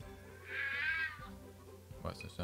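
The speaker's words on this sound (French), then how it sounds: "Ouais, ça, c'est un chat, quoi." A cat-like Pokémon cry from the New Pokémon Snap video game in a jungle stage, one drawn-out meowing call, fairly close, followed by brief game sounds and a voice.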